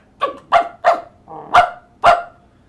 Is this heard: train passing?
no